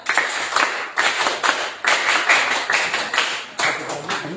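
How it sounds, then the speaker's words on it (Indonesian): A classroom of students claps a rhythmic spirit cheer in repeated bursts, loud and close, with groups of quick claps separated by brief pauses. "Tepuk semangat"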